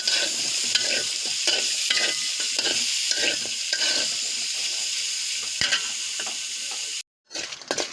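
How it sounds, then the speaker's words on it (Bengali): Onion and garlic frying in a pan with pointed gourd, heard as a close, steady sizzle broken by repeated rhythmic scrapes of stirring, then a brief dropout before the sizzle resumes. "ভেজে নেব পেঁয়াজ রসুন দিয়ে দিচ্ছি একটু ভেজে নেব সাথে"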